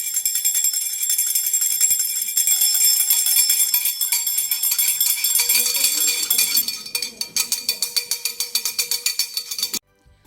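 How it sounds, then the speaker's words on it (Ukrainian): A school bell rings loud and continuous for the first day of the school year, then breaks into rapid repeated strikes before stopping abruptly, with faint voices briefly underneath. "Ось і пролунала у новому навчальному році чарівна мелодія шкільного дзвоника"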